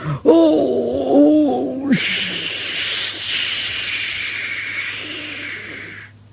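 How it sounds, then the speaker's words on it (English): A voice wails briefly, then a loud, sustained hiss of escaping steam from a steam locomotive blasts for several seconds before cutting off. "he had to let off steam to show how happy he was"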